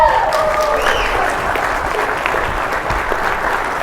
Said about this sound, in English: let's give a big round of applause for all the participants